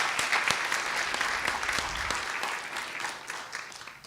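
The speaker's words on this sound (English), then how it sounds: "May I have a round of applause for Datuk Syahril?" A seated audience at a morning session of a scholars' leadership conference applauds a keynote speaker, a full, even roar of clapping with a few sharp individual claps, holding steady before tapering slightly toward the end.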